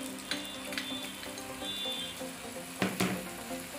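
Chopped ginger and garlic sizzling in hot oil in a pan while cooking honey chilli chicken, a steady close crackle with a few sharper clinks and stirring sounds, no talking.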